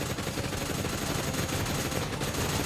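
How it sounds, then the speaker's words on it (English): Dense, continuous gunfire from a machine gun in the mech fighting video game Override: Mech City Brawl, a loud steady rattle mixed with game noise and no pauses. "My machine gun! My machine gun!"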